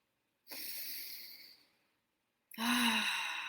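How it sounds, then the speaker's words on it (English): Two slow, deep breaths close to the mic, a long exhale followed after a pause by a strong inhale, during a guided mindfulness exercise, quiet and alone without talk. "Let's take a deep breath together."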